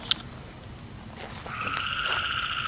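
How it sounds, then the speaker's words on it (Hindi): A frog croaks in a rhythmic series of short repeated calls during a nighttime visit to a spooky abandoned bungalow, with faint insect chirring and a louder sustained trill joining partway through. "ये मेंढक क्यों?"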